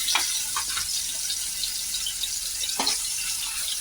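Steady sizzling and crackling of green peas frying in oil, with a few soft scrapes of stirring, close and continuous.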